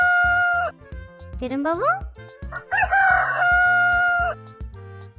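A rooster crow, most likely imitated by a voice in a Tamil animal-sounds lesson for toddlers, rises in a sweep and then holds a long call, with a steady rhythmic music beat underneath and a brief spoken word between them.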